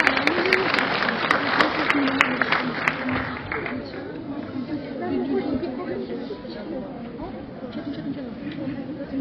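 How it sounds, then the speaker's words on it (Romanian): Audience at a school end-of-year graduation ceremony clapping, with sharp single claps at first, then a crowd applause that fades into murmuring chatter and voices. "Aplauze să merită."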